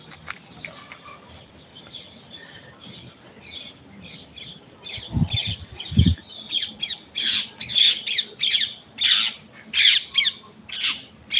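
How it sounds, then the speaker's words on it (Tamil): A pet parrot squawks in a rapid series of harsh, loud calls that grow more frequent and intense, close by and alone, with a couple of soft thumps midway. "கிளி பறக்குது"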